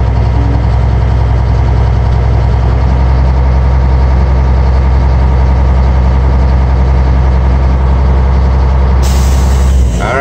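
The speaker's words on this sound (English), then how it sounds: "You heard that? That's the air governor cuts out, okay, the sound." A truck idles with a steady heavy engine rumble, and near the end the air brake governor cuts out with a sudden loud burst of released air hissing over the engine.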